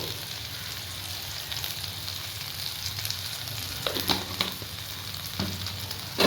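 Potatoes and okra fry with poppy seeds in a pan, making a soft, continuous sizzle broken by a few quiet stirring scrapes, with no talking.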